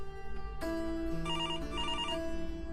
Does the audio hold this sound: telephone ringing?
yes